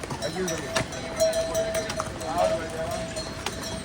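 Horses descending a hillside path clop unevenly, the hoofbeats scattered and partly masked by outdoor noise and people talking nearby.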